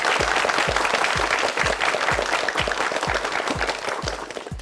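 Studio audience applause on a Korean TV word quiz show, a dense, steady wash of many hands clapping that fills the whole stretch at full loudness, with rhythmic low thumps underneath.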